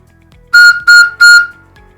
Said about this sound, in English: if we give it a blow, then we should get a whistle sound